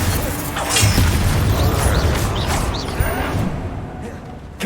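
A Bombarda explosion spell goes off in Hogwarts Legacy, a loud, dense blast that rolls on with low rumbling and crackling debris for several seconds.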